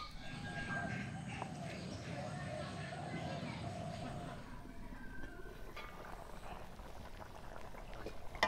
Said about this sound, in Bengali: পানিটা আমার ফুটে উঠেছে